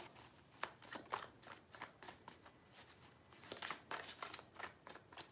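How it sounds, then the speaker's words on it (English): A deck of tarot cards is shuffled in close, riffling bursts that repeat steadily, with a louder flurry near the end and no talking. "Three shuffles."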